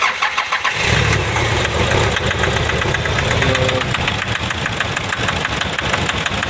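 A 2019 Nissan Navara engine cranks and catches after about a second, then settles into a loud, close idle with a rough, misfiring beat.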